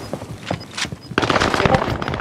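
Rapid gunfire comes from above in a video game, sharp bursts that grow denser and louder partway through, with players' voices talking over the shots.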